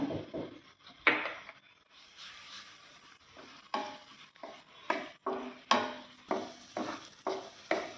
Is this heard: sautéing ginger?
yes